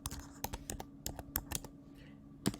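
Typing on a computer keyboard in a quiet room, a few irregular bursts of sharp key clicks spread across the moment, ending with a louder thump like the enter key.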